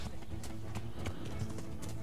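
Hooves clip-clop in a steady rhythmic gait as a horse is ridden in the medieval video game Kingdom Come: Deliverance, fairly quiet under a low background hum.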